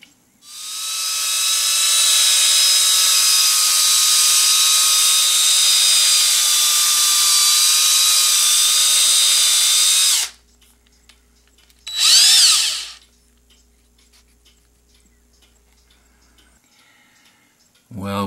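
A power sander smooths the sharp edges of a Caribbean Sea cigar pen with 800 and then 1500 grit, giving a loud, steady high whine for about ten seconds, then a short second burst after a pause.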